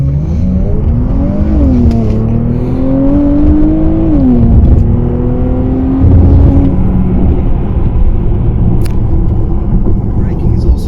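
A 2021 Porsche Panamera accelerates hard, its engine note climbing in pitch through several gear changes, heard as a loud, steady roar from inside the cabin.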